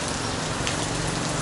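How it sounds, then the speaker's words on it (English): Light rain falls steadily in Danang, Vietnam, a dense, even hiss of drops close by with no talk. "we're just getting a bit of rain"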